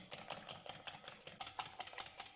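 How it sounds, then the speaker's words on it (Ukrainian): Quick, even tapping and clinking as a whisk beats egg batter with starch and sour cream or mayonnaise against a bowl, a soft, steady rhythm throughout. "І збиваємо знову все до однорідності."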